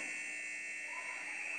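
Hockey arena period buzzer at a live Oilers versus Lions game, a steady sustained electronic tone held loudly and evenly throughout, with no talk.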